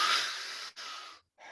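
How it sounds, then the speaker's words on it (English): A person in a guided breathing practice draws a long, airy breath close to the mic, then releases it, with a short silent pause before another breath begins. "Fully in, let it go."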